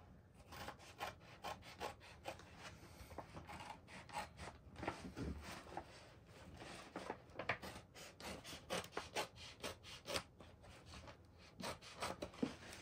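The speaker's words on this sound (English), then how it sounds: "get a pair of scissors and start trimming this down" Scissors trimming Alcantara fabric for the interior of a 2019 Acura ILX: repeated close, quiet scraping snips and rubbing cuts in an irregular rhythm, with no one speaking.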